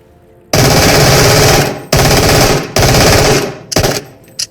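Two automatic guns fire at once in the Into The Radius VR game, loud sustained bursts in three long volleys followed by a short final burst, close and alone.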